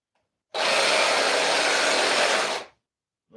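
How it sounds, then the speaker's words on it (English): A Sawzall reciprocating saw cuts through a skinned turkey carcass, a loud, steady buzzing roar that starts abruptly, runs for about two seconds and cuts off sharply, heard close and alone. "let me chop that off with the Sawzall"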